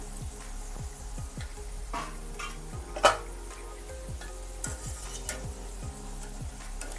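Vegetable pakoda deep-frying in oil over a low flame, a constant close bubbling sizzle with a quick series of light metallic taps from a ladle and one sharper clink.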